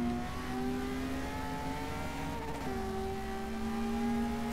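A McLaren race car engine in Forza 6 drones at a steady high pitch as it accelerates along a straight, holding one continuous tone with a brief shift partway through.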